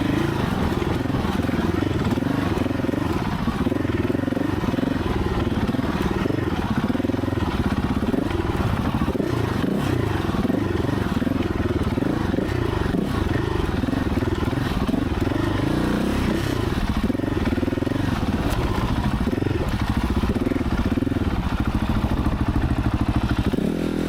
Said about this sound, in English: Quite hard to hear because my exhaust is pretty loud, but you really hear the air intake if you are giving it a little bit of go.